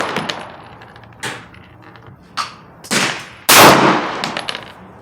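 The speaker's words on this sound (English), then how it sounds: "let's try 5 more shots" A CZ P-01 Omega pistol fires at a 25-yard range in a short string of about five loud, sharp gunshots at irregular intervals, with one early faint crack.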